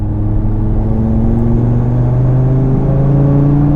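A 2020 Audi TT RS with a turbocharged five-cylinder engine accelerating in 4th gear from about 2,500 RPM, a loud, steady in-cabin drone rising gradually in pitch, with no talking.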